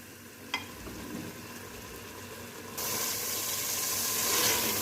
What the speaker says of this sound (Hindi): ये मैं भून रही हूँ